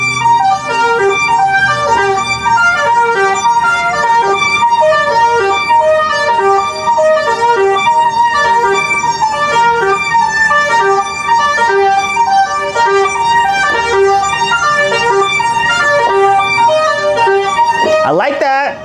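Vintage analog synthesizer patch with the accent setting engaged, playing a loud, sustained harmonic-rich sequence of tones that repeats steadily for the whole stretch, with a brief swooping sweep at the end.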